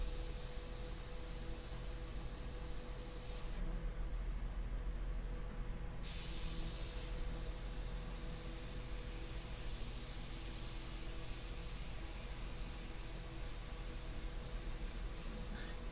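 An airbrush sprays India ink onto paper in a steady, continuous hiss that runs nearly the whole time, close and even, with one short break partway through and no talking.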